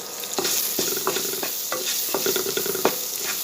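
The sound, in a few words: chopped onions sautéing in pan for beans poriyal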